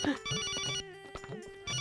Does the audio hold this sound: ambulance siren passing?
no